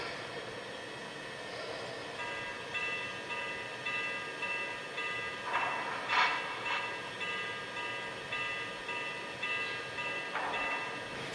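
A Lionel Vision Line US Army Triplex model train runs with a continuous rolling rumble, broken by a few short whistle blasts partway through and near the end.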